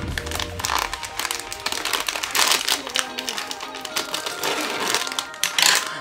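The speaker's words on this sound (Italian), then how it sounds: "apriamo la busta, che come al solito ci vogliono per forza le forbici." Scissors cut open a plastic magazine gadget bag, with dense crinkling, crackling and snipping close up and no talk.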